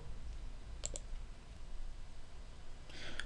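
Two quick computer mouse clicks in succession, crisp and close, with a further faint click near the end, over a low room hum and no talking.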